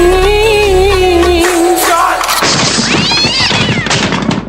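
A cat leaps onto the back of a man doing pushups, sounding off with a loud, drawn-out meow that gives way to a sudden burst of noisy clatter and thuds.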